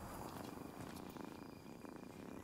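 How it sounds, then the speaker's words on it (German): A cat purrs in the video game Rise of the Ronin, a soft, close, rhythmic rumble repeating steadily throughout with no talk over it. "Na, kleine Katze, hallöchen. Lass dich mal anfassen."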